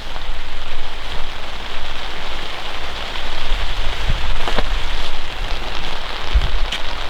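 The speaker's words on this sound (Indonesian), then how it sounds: "Ya, sekarang udah hujan." Rain drumming on a large seven-person tent, a loud continuous patter of drops on fabric with brief heavier bursts, steady and close with no speech.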